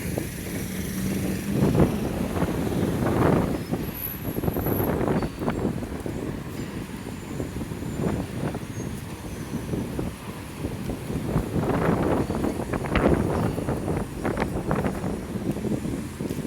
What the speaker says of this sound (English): It's getting a little windy now